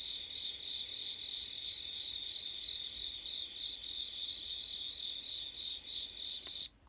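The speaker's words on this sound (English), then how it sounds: "Crickets." Crickets chirp in a dense, steady high trill that carries on evenly for several seconds before cutting off abruptly, with no voices over it.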